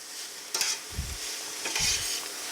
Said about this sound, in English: we're going to be sauteing this for about another 5 minutes